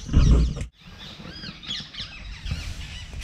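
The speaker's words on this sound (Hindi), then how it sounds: "यहाँ पर हम लोग कुछ देर मिट्ठू और तोते की आवाज़ सुनते हैं" Parrots call near a former city drainage channel in Gwalior, India: several sharp, chirping squawks scattered over about three seconds against a faint outdoor background, after a brief louder rumble at the start.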